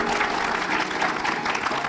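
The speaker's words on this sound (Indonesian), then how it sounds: "Tepuk tangan sekali lagi." Audience applause at a gathering honoring Kang Dedi, a dense steady clapping that fills the short stretch evenly and close, with faint crowd murmur underneath.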